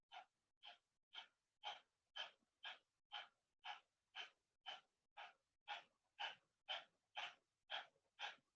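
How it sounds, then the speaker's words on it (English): Forceful, rhythmic yoga breaths pushed out through the nose with a pumping belly, a steady run of about sixteen sharp, close hissing exhales spaced roughly half a second apart. "Sharp exhales through the nose,"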